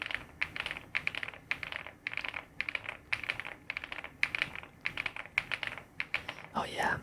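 Fast typing on an Epomaker Galaxy100 mechanical keyboard with an aluminum shell, a steady stream of crisp close key clicks and clacks in irregular bursts.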